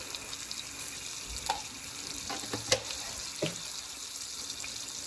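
Spoonful of tempering seeds sizzles in hot oil, with a steady low crackle and a few sharp clinks and stirring knocks from a spoon in the pan, close and fairly quiet.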